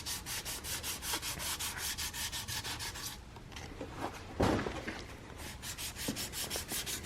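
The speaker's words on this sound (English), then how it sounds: "See, like we're already sanding through the primer a little bit." Hand sanding of truck paint and primer with 320 grit sandpaper, rhythmic back-and-forth rasping strokes close up, pausing midway for a few scattered knocks before the steady strokes resume.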